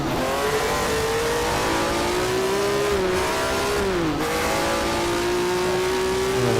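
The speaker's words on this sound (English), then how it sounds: "Another great noise. There's a V6 in this thing." A Ford Capri's V6 engine in the rFactor racing game drones loudly and steadily at high revs, with a short dip and rise as the driver lifts and shifts, the exhaust note continuous throughout.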